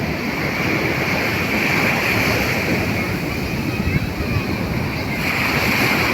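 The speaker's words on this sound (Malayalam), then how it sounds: "വെള്ളം ശക്തമായിട്ട് വരുന്നുണ്ട്" Strong sea waves surging in along a beach, a steady loud roar of surf mixed with gusty wind buffeting the microphone, continuous and close with no pause.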